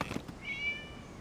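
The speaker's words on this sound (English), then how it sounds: "It was just a cat." A single short cat meow in the game Genshin Impact, a brief rising-falling call at moderate volume over quiet background.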